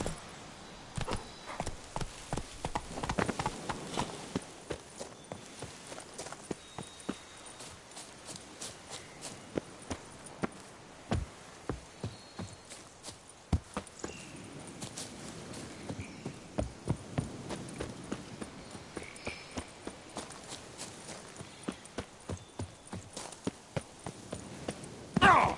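Hooves of Roach, a horse in Witcher 3, clop in a quick uneven rhythm at moderate distance, with a few louder strikes standing out against a quiet background.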